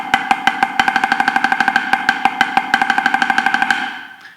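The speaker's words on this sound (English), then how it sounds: "if I was to play it in legato strokes" Drum triplet rolls played as even legato strokes, a steady, rapid stream of close, crisp hits on a ringing drum that speeds into tighter groupings before fading out, with no talking.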